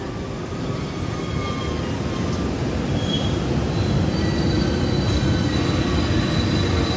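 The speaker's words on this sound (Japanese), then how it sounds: "貨物が今通過していったのに後ろからまた別の貨物がやってくる。" A freight train on Japan's Musashino Line rolls past close by, a loud sustained rumble of wheels and cars with faint high wheel squeal running throughout, steady and unbroken with no voices.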